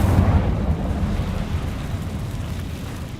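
Incendio fire spell in Hogwarts Legacy going off as a deep, rumbling whoosh-blast, loud and close at the start, then rolling on and fading slowly like a burst of roaring flame.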